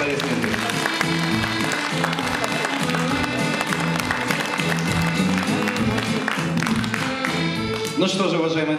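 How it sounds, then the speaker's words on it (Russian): An audience at a stage show applauds loudly and continuously, a dense wash of clapping that fills the room under music for the full stretch. "Друзья, еще раз ваши аплодисменты."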